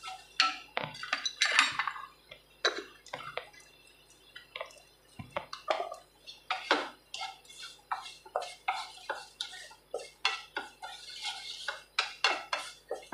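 A spoon stirs curry spices frying in ghee or oil in a pan for a curd curry, with repeated scraping strokes and metallic clinks in an uneven rhythm, close and fairly quiet.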